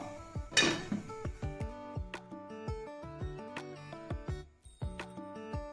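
A metal lid set onto a cooking pot of gravy-coated pieces in a home kitchen gives a cluster of close, ringing metallic clanks and clinks, followed by lighter scattered taps and rattles of cookware, with no talking.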